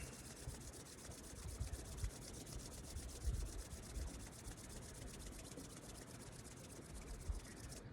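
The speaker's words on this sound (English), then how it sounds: "We'll take our hands together and we'll begin to rub them, generating a little bit of friction and heat." Palms rubbed briskly together during a qigong warm-up, a soft, steady hissing friction running continuously and close, with a few slightly stronger strokes and no talking.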